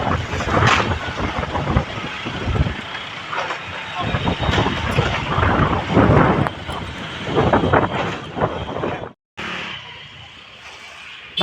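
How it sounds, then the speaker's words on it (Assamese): Strong wind blows outside a shopping mall in the evening, roaring and buffeting against the microphone in loud gusts, dropping briefly to near silence before rushing back. "আৰু বতাহৰ আৱাজ শুনকচোন।"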